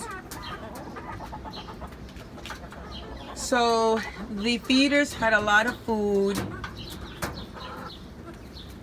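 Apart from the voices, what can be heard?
hens clucking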